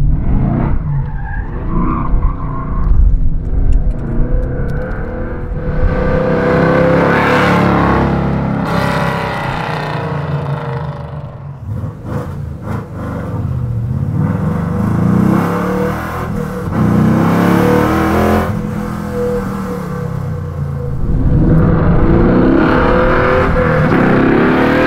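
A Coyote-swapped 1966 Ford Mustang with Wilwood brakes accelerates hard with a roaring engine, then brakes with loud tire squeals, repeating in several close, loud bursts with no talking.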